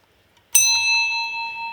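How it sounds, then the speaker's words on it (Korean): A single bell strikes once during a church sermon, a sharp loud onset followed by a long ringing tone that slowly fades, with no talking over it. "종소리 종입니다"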